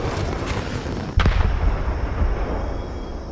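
Anti-vehicle rocket launcher in Fortnite fired at a rock, a sharp loud blast followed by a rumbling boom and fading debris, over steady background game ambience.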